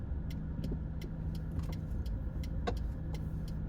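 Cars pass along a Miami street near Brickell in a steady low rumble of traffic, with engines humming and faint ticks and clicks scattered through it at a moderate distance.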